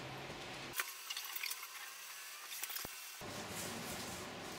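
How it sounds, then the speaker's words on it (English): Tap water runs and splashes in a sink as a carving knife is rinsed, a steady near wash with a few metallic clinks and knocks, stopping partway through and then resuming more softly. "Always remember, kids, to wash the carving knife before you give it back to Mummy."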